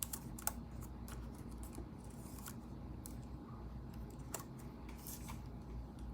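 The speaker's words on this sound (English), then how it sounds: "So if I type log" Keyboard typing on a computer, a run of light irregular clicks and taps heard close up over a steady low room hum, with a few sharper keystrokes standing out.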